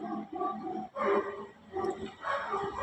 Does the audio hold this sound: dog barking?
yes